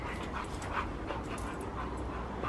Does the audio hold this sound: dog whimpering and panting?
yes